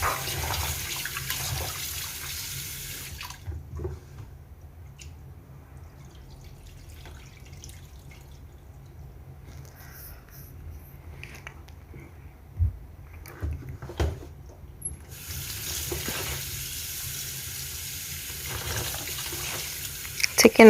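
A kitchen tap runs over cut-up kidney pieces being rinsed, a low steady flow with drips and small splashes, then a louder gush near the end. A voice talks quietly throughout.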